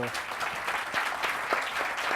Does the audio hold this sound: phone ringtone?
no